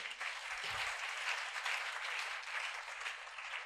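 Steady applause from a church congregation fills the whole stretch, broad and unbroken like a crowd clapping together, with a brief low thump near the start.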